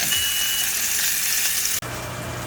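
Pork chops searing in a hot cast iron pan, a loud, steady sizzle and crackle close up, with a brief cut partway through.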